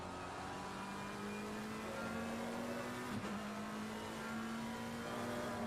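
GT3 race cars in a sim racing endurance qualifying session circle the Kyalami circuit, a steady engine drone with shifting pitch as cars pass, moderately loud and continuous, with no voices.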